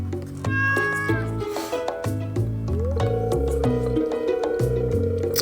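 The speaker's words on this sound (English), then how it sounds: "You see this cat here?" A cat meows in the Stardew Valley video game, a brief mewing cry set against prominent plucky game music that continues throughout.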